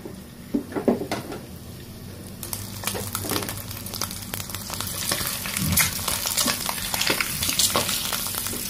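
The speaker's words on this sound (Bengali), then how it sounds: "তেল গরম হয়ে গিয়েছে। এখন এর ভেতর ডিম দিয়ে দেব।" Spiced eggs hit hot oil in a pan with a steady sizzle that builds and crackles louder over several seconds, with occasional clinks of a utensil, close up and with no talking.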